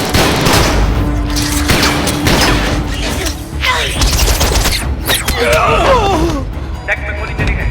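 Loud bursts of gunfire crack in quick succession amid heavy noise and commotion on a ship's deck in a Transformers (2007) film scene, with sharp pops and shrill whistling tones near the end.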